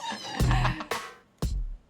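A kitten meows in a purple-lit room, with a few short, close cries spaced out over about two seconds and no speech.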